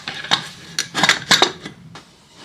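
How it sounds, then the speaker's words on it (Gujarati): A pressure cooker lid being opened after boiling dal, with several sharp metallic clinks and clatters of the lid against the pot, close and loud, no talking. "કુકરને ઓપન કરીએ"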